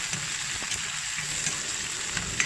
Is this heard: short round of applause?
no